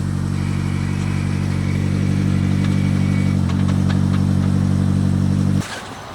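Hyundai Genesis Coupe with a twin disk clutch idles loudly with a deep steady drone, close up, then the engine note drops abruptly near the end as it is put in gear.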